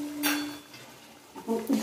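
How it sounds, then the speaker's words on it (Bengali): Salt, turmeric, cumin, coriander and chili powder masala for chicken kosha being stirred in a pan, with a metal spoon clanking and scraping against the pot in a few close, bright strokes. "খুব ভালো করে মশলাটা কষাবো"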